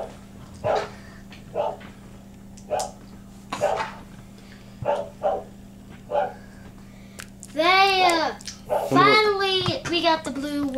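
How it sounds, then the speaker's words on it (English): A dog barks in short, evenly spaced single barks at moderate distance, followed by someone talking near the end. "I wonder what Jack's barking at"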